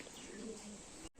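A Lal Dom pigeon coos softly at close range, a low, fairly quiet murmur that runs throughout and ends in a brief gap.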